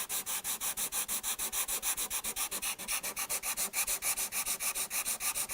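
Hand sanding cured super glue off a guitar's finish, a close, steady back-and-forth scrubbing rasp in quick regular strokes, continuous and fairly loud with no voices.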